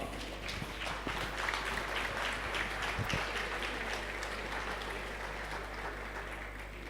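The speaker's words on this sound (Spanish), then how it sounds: "Denle un aplauso al Señor." Applause from a church congress congregation fills the hall steadily for the whole stretch, dense and continuous with a low steady hum underneath.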